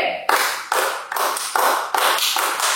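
A youth fellowship group claps in unison during a GPIB church service in Bandung, sharp synchronized bursts landing in a regular rhythm, each clap ringing briefly in the hall before the next.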